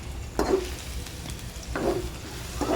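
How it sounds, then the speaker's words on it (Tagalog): Onion and garlic sautéing in a pan for chicken in oyster sauce, a steady sizzle broken by three scraping stirs of a utensil spaced about a second apart. "Kapag nagisa na natin mabuti ang garlic at ang onion"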